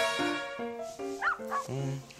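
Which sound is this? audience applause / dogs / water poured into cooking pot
dogs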